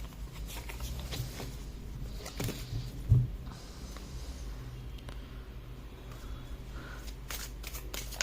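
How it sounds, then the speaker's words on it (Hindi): Tarot cards are shuffled close by in a run of soft riffling, flicking and patting sounds over several seconds, with one brief duller knock partway through. "let me pick the cards once again"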